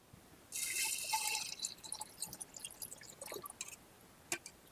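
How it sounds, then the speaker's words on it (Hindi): Water is poured from a container onto a handful of wheat grains being soaked to sprout wheatgrass, giving a short gush followed by scattered drips and trickles that quieten toward the end. "इसमें आपने पानी डालना है"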